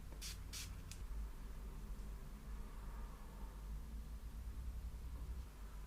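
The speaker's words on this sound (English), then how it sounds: "I'm going to use some setting spray on my brush." Two quick spritzes of makeup setting spray from a spray bottle onto a makeup brush, close up, followed by quiet room hiss.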